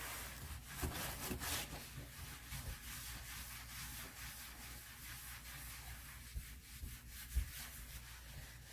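Liquid sandpaper being rubbed by hand onto a kitchen cabinet, a steady soft rasping friction that continues throughout with a few faint knocks.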